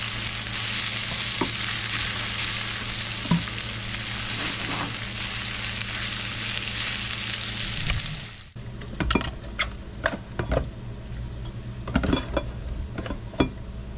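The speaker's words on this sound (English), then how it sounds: "Scraping that flavor off the bottom there so you don't lose it." Browned bits scraped off the bottom of a hot frying pan, a steady loud sizzle of frying food for about eight seconds, then a run of separate scraping and clattering strokes against the pan.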